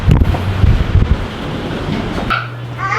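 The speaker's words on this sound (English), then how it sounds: "even though it's a little windy." Strong wind batters the microphone at an outdoor wedding, a loud rushing roar that fades into a softer, steadier hiss toward the end.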